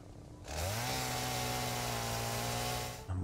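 A chainsaw in the game Satisfactory revs up and holds a loud, steady buzzing whine for about two and a half seconds before stopping abruptly.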